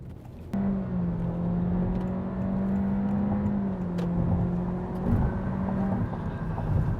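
A 2022 Honda Civic with a 1.5-litre engine and CVT accelerates, giving a steady droning engine tone that rises slowly and holds evenly, with road and wind rumble underneath.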